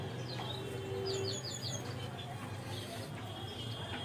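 A red-headed pigeon, a blind lal-sir bird, gives soft low coos amid faint chirps and background noise, close by but quiet, with no clear talk over it.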